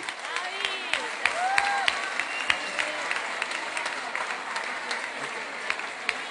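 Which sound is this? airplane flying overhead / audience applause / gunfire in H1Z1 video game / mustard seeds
audience applause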